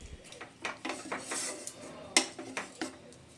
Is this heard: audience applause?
no